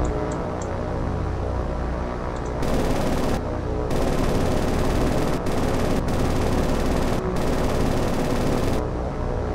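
Sustained bursts of rapid anti-aircraft gunfire shooting down B-17 bombers in the naval combat game War on the Sea, loud and dense, running in several long volleys with short gaps between them.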